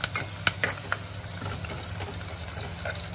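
Crushed garlic and curry leaves browning in hot oil for a spicy Malvani crab curry, a steady close sizzle with a few sharp clinks of stirring near the start.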